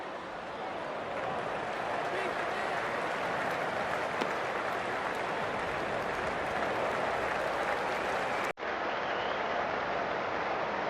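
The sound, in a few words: crowd applause in the video game Cricket 24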